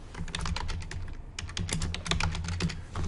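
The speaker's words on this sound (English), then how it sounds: "So type in remitted premium" Typing on a computer keyboard while entering data in QuickBooks, a close, quick run of clicky keystrokes with brief pauses.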